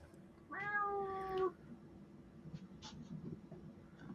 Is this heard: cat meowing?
yes